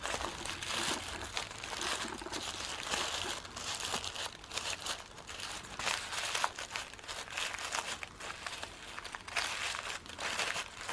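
Pink tissue paper for a craft flower kit being pulled up and ripped, a steady close crinkling and tearing rustle that runs on without pause and without talk.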